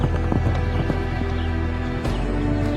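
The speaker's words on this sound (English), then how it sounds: "a herd of wild horses roaming the rangeland" A herd of wild horses running across open rangeland, a loud steady drumming of many hooves with a brief whinny, close and continuous with no voices.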